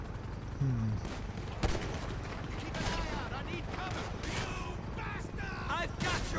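Gunfire as cops are shot in GTA 5, scattered sharp shots and clattering impacts over a busy background with sirens, a mix of distant and closer bangs rather than a steady burst.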